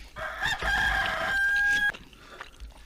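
A rooster gives one long, loud crow that rises and holds before cutting off, followed by faint background noise with no speech.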